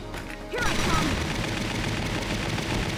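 Gunfire from Rosie's machine gun in Valkyria Chronicles erupts after a brief quiet moment, a sustained loud rattling burst with crashing impacts that continues to the end.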